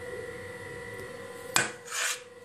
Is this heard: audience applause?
no